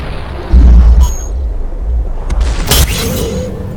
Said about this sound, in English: Man, these executioner shots are terrifying.